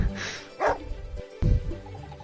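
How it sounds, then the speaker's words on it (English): A dog barks in the Wargroove video game, a few sharp close woofs and yips spaced across a couple of seconds, with no talking over them. "Woof."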